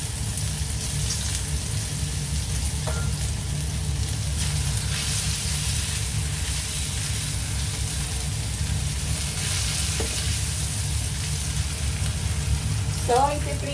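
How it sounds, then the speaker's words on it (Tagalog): Garlic and ginger sautéing in a hot pan while cooking mung bean stew: a continuous, even sizzle of frying with occasional faint clinks of a utensil, steady throughout. "So, magigisa tayo ng ating bawang. Then, maglalagay tayo ng luya."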